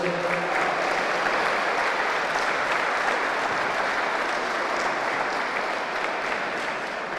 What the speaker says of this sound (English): A big round of applause for Kildlass Handball Club.